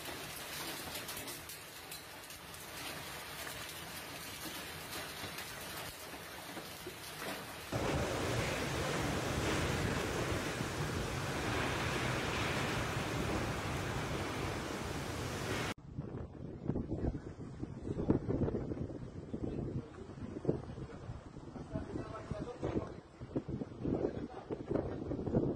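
A violent storm in Palermo, Sicily, with torrential rain and hurricane-force winds: a constant loud roar of wind and pouring water that surges heavier midway, then turns gustier and rougher with buffeting on the microphone.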